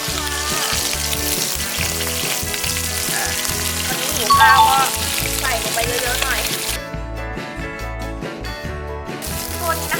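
Boiled jasmine rice frying in a pan with a loud, dense sizzle and crackle, plus rhythmic stirring and scraping throughout, close up; the hiss drops away briefly near the end.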